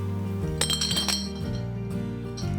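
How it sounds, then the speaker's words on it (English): Ice cubes clink and rattle into a glass serving jar, a cluster of bright, hard knocks over steady background music. "ice cubes"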